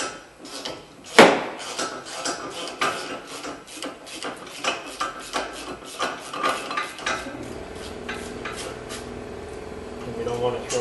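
Rusty brake parts on a 2005 Honda are struck by an open hand, with a sharp loud bang early on and then a run of duller knocks and metallic rattles, close by, while someone talks throughout.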